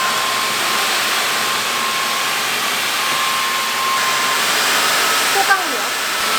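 A Samsung Bespoke Jet cordless stick vacuum runs in strong suction mode, a loud, steady rushing hiss with a faint motor whine, close and unbroken, with a small click near the end.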